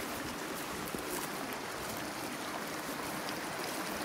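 Creek water flowing along a creek bottom in Arizona gives a steady, faint, unbroken rush and trickle of low level, with no voices.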